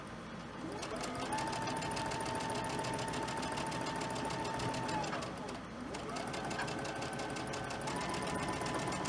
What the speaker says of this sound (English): So we're going to sew this one piece here before we put our rows together.